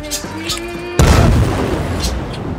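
A sudden heavy boom bursts out in the Dying Light 2 video game, cutting in loudly after a quieter stretch of game sounds and rumbling on as a dense roar, with a faint voice nearby.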